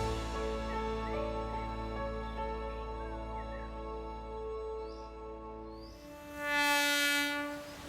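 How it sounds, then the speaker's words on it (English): An Alishan Forest Railway train pulls away in a Taiwan forest, with a sustained multi-tone horn sounding for several seconds, then a rumble of moving cars and a second horn blast near the end, with faint birds. "My train's leaving."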